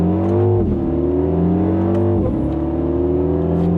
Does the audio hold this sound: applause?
no